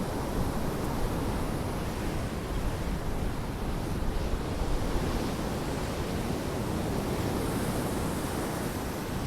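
Heavy surf roars continuously at Blackpool, big waves breaking in a steady, dense wash of noise with no pauses, loud and close.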